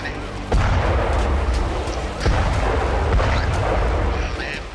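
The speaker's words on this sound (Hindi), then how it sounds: "धू धू कर जलती इमारत में कई बार धमाके भी देखे गए" A burning building in Syria gives off a continuous roaring rumble, broken by two heavy booms of explosions that ring out and slowly die away.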